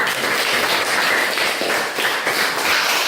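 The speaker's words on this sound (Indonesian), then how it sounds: "kita tepuk tangan dulu" A class of students clapping their hands together in a classroom, a dense, steady patter of many hands lasting the whole stretch without any voices.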